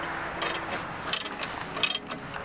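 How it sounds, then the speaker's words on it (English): A hand ratchet tightening the stretch bolt and sway bar end link on a VW MK4 GTI during a coilover install, two short bursts of rapid clicking with brief pauses between. "Just tightening this up, the stretch bolt and the end link."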